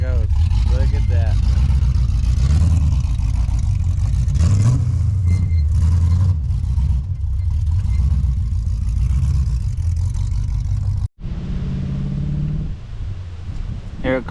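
Pontiac Trans-Am with new headers and radiator on a test drive, its engine rumbling loudly and revving as it passes close by, then cutting off abruptly before a fainter engine tone returns; people talk over it.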